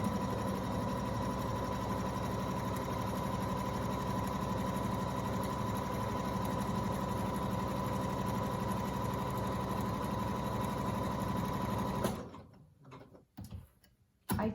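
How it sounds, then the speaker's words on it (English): A sewing machine runs steadily, stitching a zigzag on face mask fabric with a fast even mechanical chatter close by for about twelve seconds, then stops, leaving a few faint handling noises. "just put your machine on a zigzag stitch"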